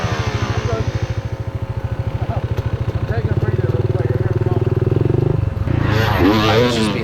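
Pit bike engines buzz loudly close by at a race, a steady pulsing drone that swells and rises in pitch as the bikes rev past, with voices reacting near the end.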